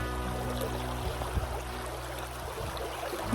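A faint, steady rush of flowing river water with a low background hum and no voices, at the ghost town of Fairbank, Arizona, near Highway 82.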